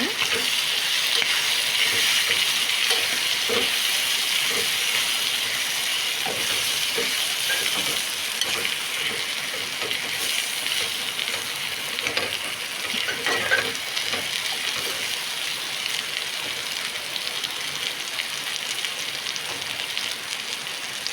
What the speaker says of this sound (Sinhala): ආයි අපි පොඩ්ඩක් කලවම් කරගන්නවා.